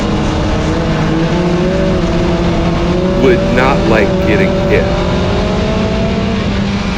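A small dirt-track hot rod race car engine drones steadily at high revs with a sustained pitch and brief squealing chirps partway through, while someone talks over it.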